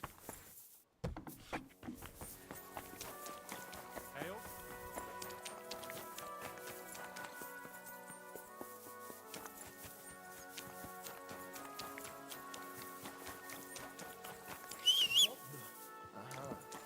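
Hooves clip-clop steadily from a horse in a video game, a continuous rhythmic patter running under game music throughout, with a brief louder burst near the end.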